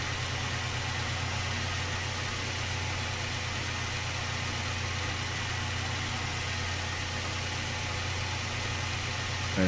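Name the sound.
truck engine running in video game Snowrunner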